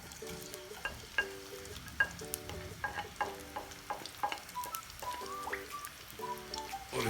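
Chopped onions hit hot oil in a karahi and fry with a steady, close crackling sizzle, punctuated by a few stirring clinks, with soft tonal sounds in the background.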